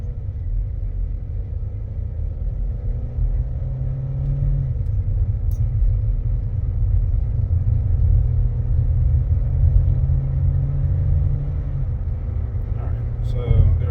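A car cruises at about 60 with a steady low engine and road rumble close inside the cabin, holding even throughout before a brief knock near the end.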